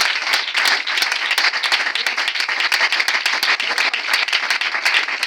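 A church congregation at a Sunday service claps and applauds steadily, a dense, lively burst of hands that carries on evenly without a break.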